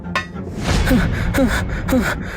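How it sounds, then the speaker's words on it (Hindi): A soldier panting as he rushes into a royal court, three sharp breathy gasps in a rhythmic series, close and fairly loud over a low background. "तभी एक सैनिक हांफता हुआ भीतर आया।"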